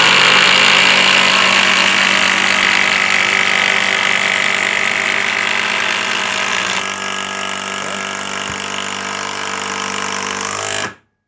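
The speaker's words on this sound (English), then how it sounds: "I'm going to run 2 in each end through this 4x4" An impact driver runs steadily and loudly, driving 6-inch, 1/4-inch-thick power lag screws into a 4x4, a continuous buzzing hammer with a slight drop in pitch partway through before cutting off abruptly.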